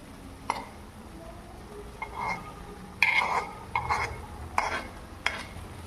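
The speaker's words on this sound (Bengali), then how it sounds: "এবার এটাকে একটু ভালো করে নাড়িয়ে নেব।" Chicken with onion and green chili paste is stirred in a pan: close, irregular scraping and clattering strokes of a spoon over a soft sizzle, with no voices.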